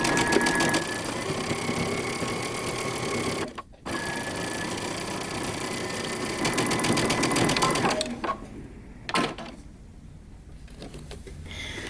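A sewing machine runs a 5/8 inch seam on a moto jacket, a long close steady rattle of stitching broken by one brief pause, then quieter fabric handling with short bursts of stitching.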